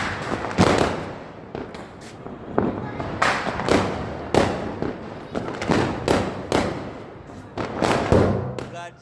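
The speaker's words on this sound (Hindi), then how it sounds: "देखते हैं बाटी बम क्या असर दिखाता है" Diwali firecracker bombs exploding outdoors, a rapid series of sharp, loud bangs with echoing tails, about a dozen blasts in irregular rhythm, with excited voices talking between them.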